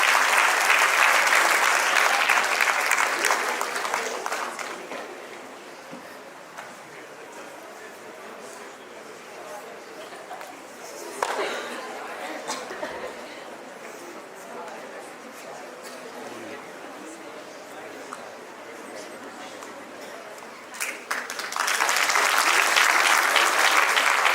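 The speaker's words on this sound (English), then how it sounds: "Let's give her a huge round of applause." An audience at the Army Welfare Education Society excellence awards and national debate applauds a debate award winner. Loud bursts of clapping open and close the stretch, with a speaker talking over quieter crowd sound in between.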